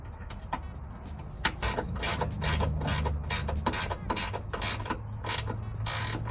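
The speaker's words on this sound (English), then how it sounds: "you're going to be using a 10mm socket or one of these wrench" A ratchet wrench with a 10mm socket tightens a ground wire while fitting grille lights on a Toyota Tacoma, producing rapid bursts of crisp clicking in quick rhythmic strokes, close and clear.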